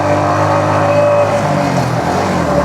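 Vehicle engine pulling in second gear up a hill road toward Keokradong, a loud steady droning hum with a slight pitch shift partway through.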